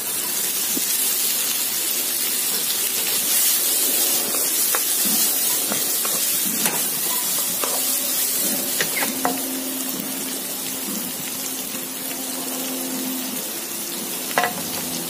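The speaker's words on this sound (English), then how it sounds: "I'm going to toss in the prawns." Prawns sizzle and crackle in hot oil in a pan, a continuous close frying hiss with occasional pops and stirring scrapes, for crispy chilli garlic prawns.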